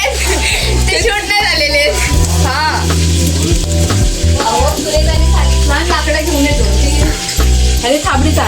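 Vade (fritters) sizzling as they fry in hot oil during a village chicken-vada cook-up in Konkan, a steady bubbling hiss running throughout while people talk nearby.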